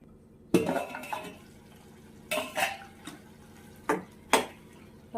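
Utensil stirring in a home cooking pot after salt goes in, then a lid set on top: several short, sharp clinks and scrapes in separate bursts, close and moderately loud against a quiet kitchen background.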